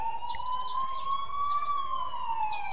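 An ambulance siren wails in a Korean drama scene, a single continuous rising and falling tone heard clearly with no talking.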